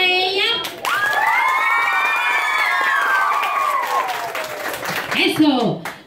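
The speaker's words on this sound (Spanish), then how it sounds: "aplauso para ella." A crowd cheers and claps, with high children's shouts and whoops rising over the noise; a voice speaks briefly at the start and end.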